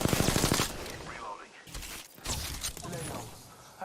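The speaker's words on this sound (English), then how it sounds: "That charge rifle." Apex Legends gunfire opens with a rapid burst of shots, followed by quieter game sounds with talking layered over them.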